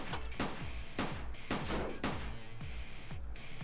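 Pistol fired in short bursts in DayZ: about seven loud, close shots in quick uneven groups, each with a sharp crack and a booming low tail, no voices.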